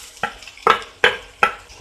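Four short bursts of sizzling as chopped onions and chillies fry in a hot pan, each flaring up sharply then settling into a soft crackle, with no voices.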